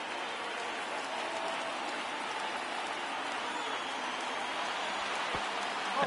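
Stadium crowd on its feet in a baseball video game, over 39,000 fans: a steady, dense roar of cheering and noise that holds at an even level throughout, with no voices standing out.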